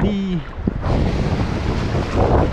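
Rushing sea waves and wind noise on a Philippine fishing shore fill the clip, loud and close, after a brief tonal chirp at the start.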